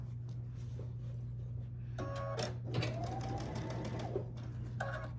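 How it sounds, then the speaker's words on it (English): A sewing machine stitches a quarter-inch seam down the side of a pieced quilt block, its steady rapid mechanical hum running close and loud throughout with brief clicking changes in pitch. "now I'm ready to stitch 1/4 inch all the way down this side"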